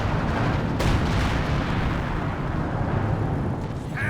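Battle din from Company of Heroes 2 as a Sexton self-propelled artillery piece fires: a dense, continuous roar of rumbling explosions and gunfire, with one sharp blast standing out early and a steady loud wash throughout.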